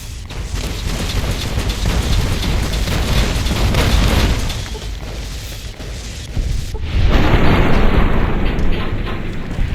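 Rocket launcher explosions in the video game Fallout New Vegas, a dense, loud rumble of booming blasts rolling continuously, dipping briefly, then swelling again into a heavier roar.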